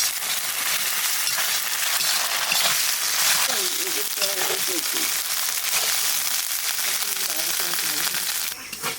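Fried onions and ginger-garlic paste sizzle and hiss steadily in a pan, with occasional scraping and stirring noises. Someone talks over the frying throughout.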